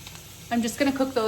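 Onions fry in a pot for tomato cheddar soup, a soft sizzle running under short bursts of nearby talk.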